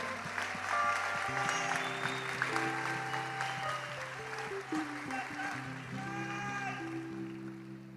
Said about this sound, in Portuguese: Glória a Deus, vamos aplaudir o Senhor.